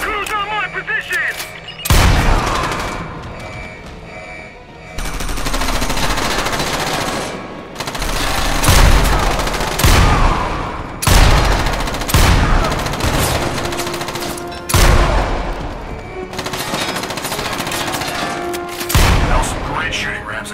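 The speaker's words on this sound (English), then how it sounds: "That was some great shooting, Ramsey." Gunfire in the Front Mission Evolved mech combat game: loud, close bursts of automatic fire and heavy booming shots repeat over twenty seconds, with short pauses and voices talking between volleys.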